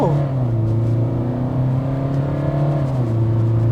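A 2025 Hyundai Venue accelerates under hard throttle, its engine note climbing steadily in a loud, close, continuous drone that briefly dips as a gear changes before rising again.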